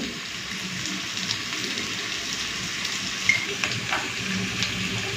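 Potatoes and salt tipped into onions already fried until reddish, setting off a steady close sizzle of frying with light stirring scrapes and a few sharper clicks, no one speaking.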